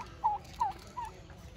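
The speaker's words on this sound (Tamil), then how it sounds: "அதே தான் வான் கோழி" Three short, high gobbling calls from a turkey at a park bird sanctuary in Yercaud, evenly spaced and fairly faint, over a quiet background.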